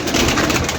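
Captured pigeons coo softly in a short burst, with a close, muffled bubbling tone and no talking.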